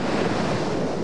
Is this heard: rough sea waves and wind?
yes